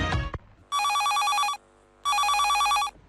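A telephone rings for a radio phone-in request programme, two long trilling bursts of the bell with a short silence between them, loud and close, after a brief sound at the start.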